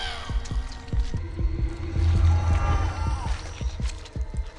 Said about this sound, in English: We're seeing the heart beating.